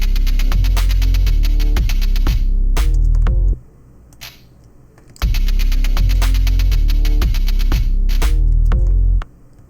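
Programmed trap beat played back loud, with booming 808 bass, punchy drums and rapid hi-hat rolls, briefly dropping to a near-silent gap midway before the full beat returns.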